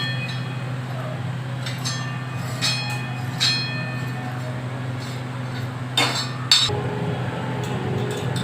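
A kitchen mixer grinder runs steadily, grinding a spice paste with coriander for prawn curry: a constant low motor drone with occasional clinks of utensils and a few louder knocks.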